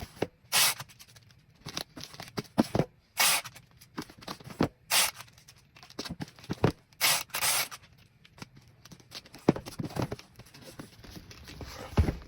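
Packing tape rips off the roll and tears as a box is sealed shut, with a series of sharp, loud, close stretching bursts separated by short pauses.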